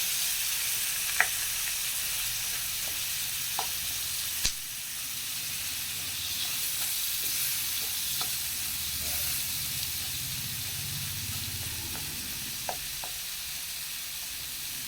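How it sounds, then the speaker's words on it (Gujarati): Chopped tomatoes and chili stirred into a hot pan, giving a steady close sizzle with a few sharp spoon knocks against the metal throughout, with no talking. "હવે તેમાં આપણે જે ટમેટા સુધાર્યા હતા તે અને મરચું ઉમેરીને બરાબર મિક્સ કરી દઈશું।"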